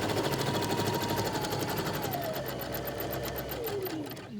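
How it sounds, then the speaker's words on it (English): A sewing machine runs continuously while stitching along the short edge of a fabric face mask, a close, rapid mechanical chatter that holds steady and then slows and stops at the end. "Now you're going to sew your whole short edge."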